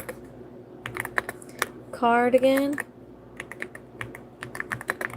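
Rapid, uneven tapping on a computer keyboard while names are typed live, with bursts of close clicks before and after a brief spoken word.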